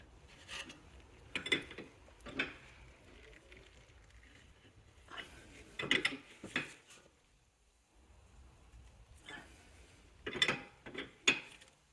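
A wrench tightens the outer tie rod collar on a 2011-2017 BMW X3 F25, giving clusters of sharp metallic clicks and ratcheting bursts separated by quiet pauses, close up.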